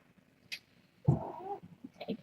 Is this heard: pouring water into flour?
no